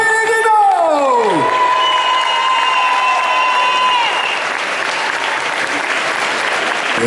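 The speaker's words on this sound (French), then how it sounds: "applaudissez comme il se doit, s'il vous plaît, Pellegrino." Convention panel audience at Paris Manga applauds steadily throughout, a dense continuous wash of clapping, while synthesized musical tones sweep and sustain over the first few seconds.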